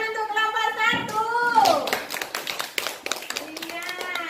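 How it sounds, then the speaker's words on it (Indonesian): Students in a classroom clap for a group during a school lesson, a burst of scattered hand claps that starts abruptly and carries on amid children's voices and chatter. "Tepuk tangan untuk kelompok"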